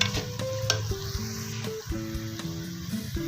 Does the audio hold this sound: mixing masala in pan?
yes